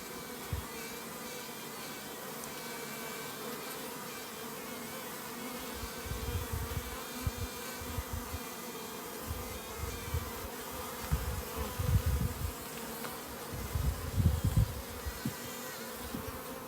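Honey bees swarm around an open nuc colony during a hive inspection, a steady close buzzing drone that swells and ebbs in louder bursts, with no voices.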